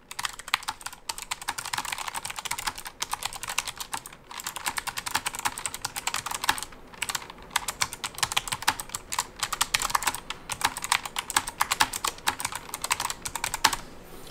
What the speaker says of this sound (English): I'm going to type a couple things for you